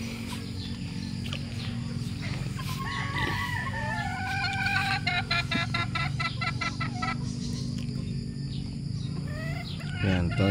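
Young Sweater-breed stag roosters in hardening pens crow repeatedly, with clucks between the calls, against a steady outdoor background hum.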